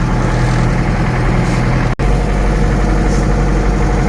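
A ZIL 130 truck engine runs steadily on the road, a loud, continuous low rumble with a constant vibrating drone and a momentary dropout partway through.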